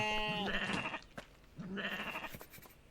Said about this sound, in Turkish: Evet 3 tane keçisi var.